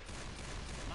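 A short, dense burst of rapid M60 machine gun fire in Left 4 Dead 2, loud and continuous for about a second, with a faint voice underneath.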